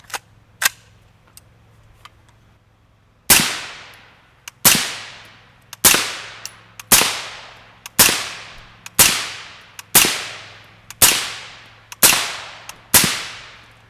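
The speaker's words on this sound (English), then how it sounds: "We've got our Yankee Hill R9 suppressor, a 20-inch PSA" Rifle shots from a 20-inch PSA 5.56 fitted with a Yankee Hill R9 suppressor, two faint clicks, then ten sharp loud cracks at a steady rhythm of about one per second, each trailing off in a short ringing decay.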